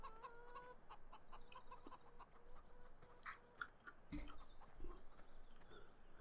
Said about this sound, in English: Chickens are in here.